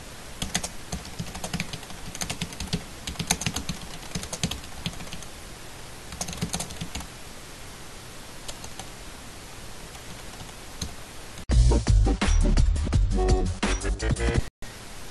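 Rapid keystrokes on a computer keyboard, steady and close, with a brief louder burst of other sound near the end.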